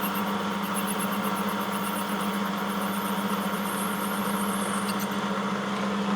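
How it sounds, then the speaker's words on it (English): A lathe takes a facing cut, running with a steady mechanical hum and a high whine, joined by a faint periodic squeal from the cutting tool, constant and close. "We'll turn the automatic feed off, and we'll just take a facing cut with the lathe."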